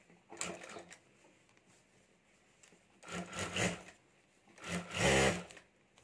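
Sewing machine stitching a seam on a cloth potli bag, heard in three separate bursts of rapid needle chatter, the later runs longer and louder, with quiet pauses between.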